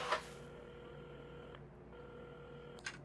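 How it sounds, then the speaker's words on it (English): A phone is dialed in the video game Assemble With Care: faint, steady electronic tones in a few sustained segments, with soft clicks between them and no speech. "at the counter, Carmen had started dialing the phone."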